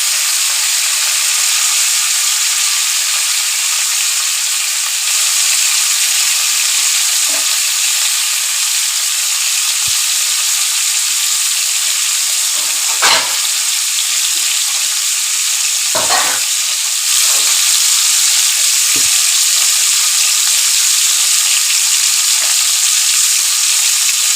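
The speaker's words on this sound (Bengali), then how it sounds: "তেলটা গরম হয়ে গেছে। এবার আমি এই মাছগুলো তুলে দিলাম।" Small pieces of rohu, catla, boal and mrigel fish fry in hot oil, giving a loud continuous sizzle with a few sharper spits and crackles, close up and without talk.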